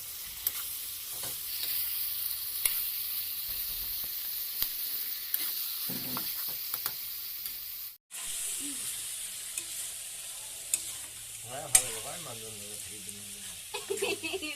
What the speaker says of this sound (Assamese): দালি মাজে মাজে লৰাইছে।